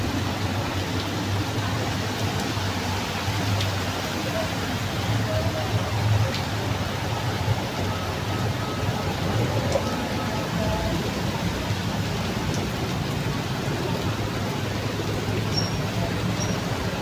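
Steady monsoon rain pours down outdoors, a dense continuous hiss with a low rumbling undertone that holds evenly throughout, no voices over it.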